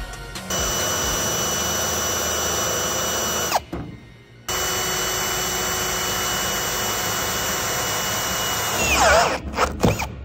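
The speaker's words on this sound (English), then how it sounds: "I don't have an impact on me today, so I'm just gonna use my drill." A power drill whines steadily at high speed starting holes for self-tapping screws in a Suzuki Samurai, with a short pause, a restart and a spin-down near the end, loud and close with no talk.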